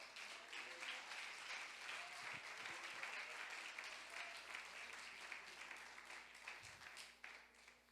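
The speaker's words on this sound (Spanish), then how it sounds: "Le podemos dar un aplauso al Señor." A church congregation claps during a Spanish-language sermon, producing a faint, distant, sustained round of applause that slowly tapers off toward the end.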